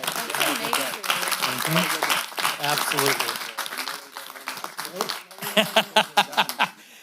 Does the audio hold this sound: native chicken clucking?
no